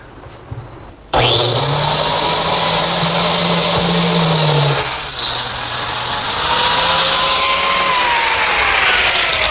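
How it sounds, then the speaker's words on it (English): A biscuit joiner starts up with a sudden loud whine and cuts a slot into a scrap-clamped wood board, running steadily with pitch shifts as the blade bites. "Using my biscuit joiner, I've made a modified biscuit slot."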